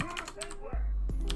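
Computer keyboard typing while scripting for FiveM in GTA V, a few sharp key clicks alongside a tonal notification chime and a sudden low thump partway through.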